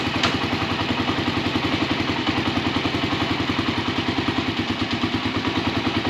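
A 1995 Kawasaki KLR 250 motorcycle engine runs at a steady idle with a fast, even mechanical clatter and rhythmic thumping while the clutch is tested. The engine is loud and close, and no one speaks.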